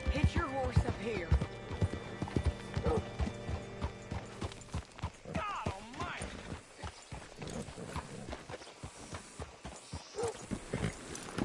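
A horse's hooves clip-clop in a Red Dead-style western video game on PS4, with irregular thuds and clatters close by among game sounds and spoken dialogue.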